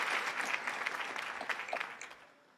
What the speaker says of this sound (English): How about a round of applause for John Bravakis?